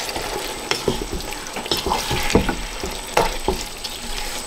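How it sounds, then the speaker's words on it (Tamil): Biryani ingredients frying in a pan while being stirred, steady sizzling hiss broken by repeated spatula scrapes and clacks in an uneven rhythm, close and fairly loud. "எல்லாத்தையும் போட்டு மிக்ஸ் பண்ணுங்க"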